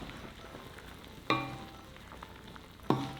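Spinach being stirred as it fries in a pan for utan bisaya, a soft steady sizzle with two sharp scraping clanks of the spoon against the pan, no voices.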